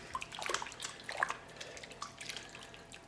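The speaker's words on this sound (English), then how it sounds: "So now, rinse the crap off your hands." Hands rinsing under a running tap in a home kitchen, a soft, close splash and trickle of water lasting a few seconds.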